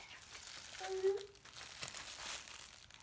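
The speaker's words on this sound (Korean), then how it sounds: "그건 비닐이야, 비닐." A dog noses and chews at a plastic bag indoors, producing bursts of crisp crinkling and rustling while a person speaks nearby.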